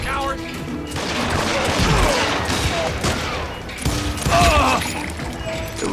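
Dense, continuous gunfire from a Wild West shootout in Call of Juarez: Gunslinger, with overlapping shots and crashing impacts in a steady barrage, heard alongside voices.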